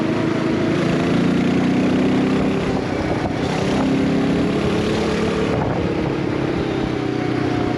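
Royal Enfield Himalayan 450 motorcycle engine running steadily while riding at low RPM with a 49-tooth rear sprocket, a continuous loud drone with wind noise, no talking.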